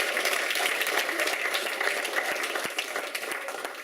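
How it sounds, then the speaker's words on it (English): Applause from a press conference audience at a mixed martial arts event, steady dense clapping held close and loud for about four seconds, thinning slightly toward the end. "I want a round of applause for that"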